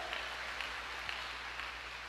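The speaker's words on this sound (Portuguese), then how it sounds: "Você pode aplaudir o Senhor?" A church congregation applauds as a faint, steady wash of many hands clapping, sounding distant and muffled throughout with no voices standing out.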